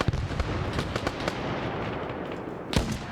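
Grenade blasts in a military video game, several sharp booms and pops scattered through the clip with a loud, close burst near the end, over steady background noise.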